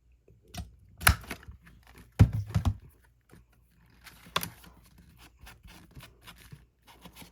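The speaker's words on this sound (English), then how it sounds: "Just take a little tiny snip out of there." Scissors snip paper while an accordion-spine book is being bound, giving a few short, crisp cuts near the mic with quiet handling noise in between and no talking.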